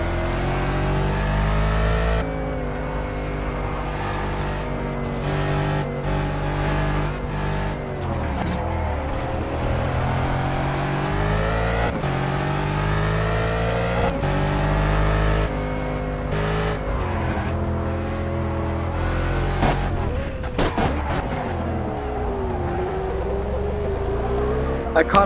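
A car engine revving and shifting through gears while driving at night in a video game, loud and continuous with rising and falling pitch sweeps, ending in a few sharp knocks.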